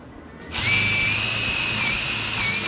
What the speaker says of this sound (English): drill out all 4 of the holes